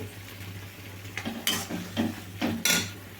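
Ginger garlic paste and curry leaves stirred in a frying pan, a steady low sizzle broken by several short scraping spoon strokes against the pan, close and alone.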